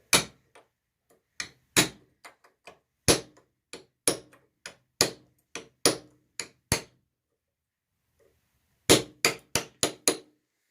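Hammer blows knock a magnetic pickup part evenly into place on the distributor of a 1991 Chevy 4.3 engine: a steady series of sharp, close metallic taps, then a pause and a quick final cluster of strikes.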